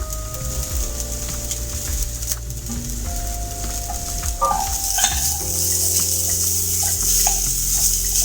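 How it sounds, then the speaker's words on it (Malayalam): Grated coconut sizzles in hot oil in a pan for rava upma, a continuous close frying hiss with occasional scraping and stirring clinks throughout. "പിന്നെ ഈ തേങ്ങയും കൂടി ഇടുകയാണ്."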